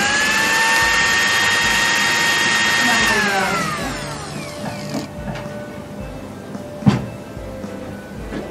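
A mixer grinder whirs loudly and steadily as it grinds flattened rice (aval). The motor then winds down over a few seconds, leaving faint rattles and a single clunk.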